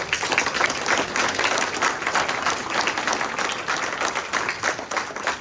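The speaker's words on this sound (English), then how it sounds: "Let's give them a round of applause." A room of people at a county breakfast event applauds staff members past and present, sustained even clapping from a sizeable crowd, fairly distant and steady for the whole stretch.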